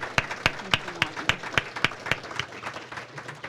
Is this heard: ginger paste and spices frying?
no